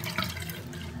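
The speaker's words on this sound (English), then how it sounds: "you can pour out all the water, or drain out all the water if you're just using a sink" Water draining out of a sink after a toothbrush scrub of pet chewing sticks, a brief soft gurgling rush, close and fairly quiet, with no voices.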